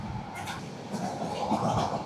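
Paryatan Express passenger train running from Dhaka to Cox's Bazar, a steady low rumble of the carriage with faint rattling and clatter, continuous and close, with soft voices in the background.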